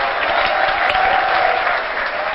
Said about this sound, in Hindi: एक बार जोरदार तालियां जो है इनके लिए भी हो जाए।